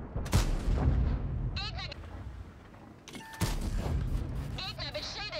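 Two heavy tank cannon shots boom in World of Tanks, several seconds apart, each a sharp blast with a rumbling tail. Game alert tones and intermittent talking sit between them.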